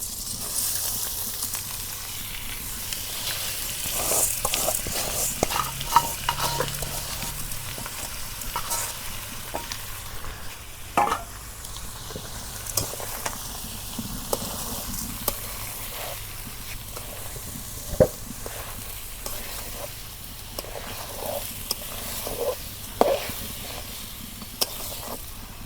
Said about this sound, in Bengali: চালটা যত ভালো করে ভাজবেন অত স্বাদ লাগে